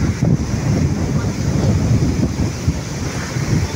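Strong typhoon wind gusts across Manila Bay, buffeting the microphone with a continuous, roaring rush that carries a low rumble of surf underneath.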